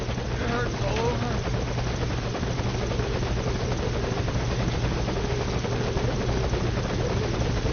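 A helicopter in a video game whirs steadily at a landing zone, a constant loud rotor drone with faint radio chatter and voices over it.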